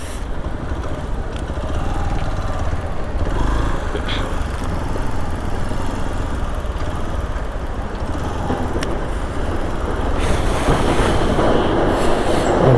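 A motorbike rides through a small water crossing on the mountain route from Jispa to Sarchu in Ladakh. The engine gives a loud, steady, continuous rumble and roar with no talking.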